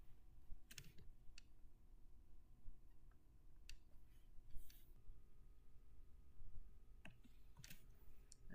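Quiet keyboard typing as a repository link is entered on a computer, with soft scattered key clicks over low background noise.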